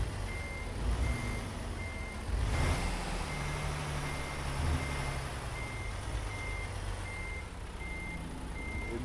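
Truck reversing alarm in American Truck Simulator, a steady train of evenly spaced beeps repeating through the whole stretch over a low engine rumble, moderately loud with no talking.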